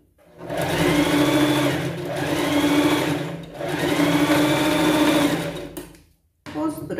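A sewing machine stitches a Cinderella-style dress costume for a pet in three long, steady whirring runs separated by brief pauses, close and loud, with a short clatter at the end.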